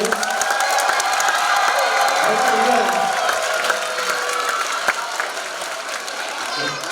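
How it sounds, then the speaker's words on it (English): A middle school winter concert audience applauds the 5th grade band, with sustained clapping and some cheering from a large crowd filling several seconds at steady volume. "let's do by applause. The 5th grade band for best audience."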